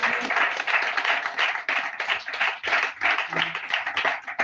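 A church congregation claps together after a Telugu sermon on the Holy Spirit, a dense, steady patter of many hands that fills the room at moderate loudness without a break.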